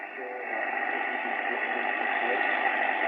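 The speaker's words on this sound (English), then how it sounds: "And you can hear that pure static." Pure static hisses from a Philips D2999 HF/VHF communications receiver with an attenuator switched in. A steady, band-limited rushing noise holds even from start to finish, with no voices.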